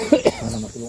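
Two short, sharp coughs close by, followed by faint background voices and murmuring.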